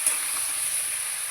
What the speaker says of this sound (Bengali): সবজিগুলো আমি খুব ভালো করে ভেজে নেব।